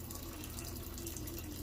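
Water pours steadily into a cooking pot of rolled grape leaf dolma, a continuous close rushing stream of about 1.5 liters filling to just cover the wraps, with no talk.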